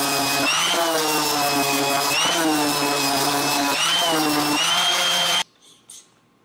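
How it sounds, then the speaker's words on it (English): A power sander grinds over wood with a loud continuous buzzing whine that wavers as it moves, then cuts off abruptly near the end, leaving a few faint handling sounds. "I need to sand before it gets way too late"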